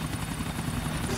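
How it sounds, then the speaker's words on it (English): Helicopter in the game GTA 4 thrumming steadily overhead, a continuous rotor drone with engine roar at constant loudness throughout. "Give Jacob a shot at the chopper"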